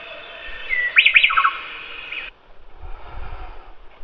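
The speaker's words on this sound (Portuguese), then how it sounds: "esse que acabou de cantar é o Picuminus alboscomatus, é o pica-pauzinho anão" A white-wedged piculet (Picumnus albosquamatus) sings a short series of high, thin trills and chirps nearby in a babassu palm area. The song is followed by quieter low rustling.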